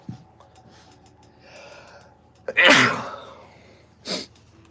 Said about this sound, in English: I sneeze too much in this room.